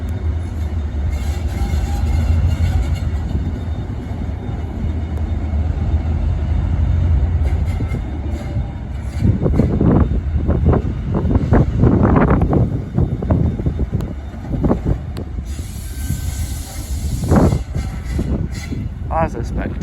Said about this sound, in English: That's a spectacular pair of trains.